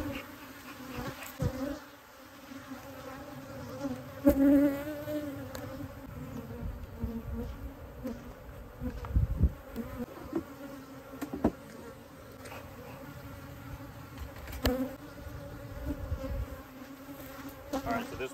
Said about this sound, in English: God, these bees are ridiculous. They won't leave me alone.